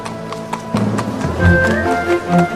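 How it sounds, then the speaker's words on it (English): Rhythmic clip-clop of fiacre carriage horse hooves on pavement in the old Burg courtyard of Vienna's Hofburg, fairly close, with tonal background sounds and faint ambient noise around them. "Today, there are fiacre horse carriages, and citizens walk through the courtyard of the old Burg."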